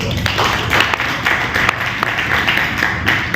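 Sustained applause from an audience at an Inner Wheel Club chairman's official visit day, dense and even clapping running steadily throughout without a break.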